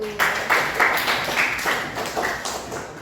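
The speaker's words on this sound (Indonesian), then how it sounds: "Haikal, tepuk tangan dulu." A run of sharp hand claps in a junior high school classroom, about ten evenly spaced, loud and close, with faint murmuring in the background.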